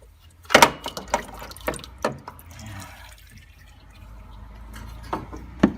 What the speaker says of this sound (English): try and tip it up to catch any leftover oil that might be dripping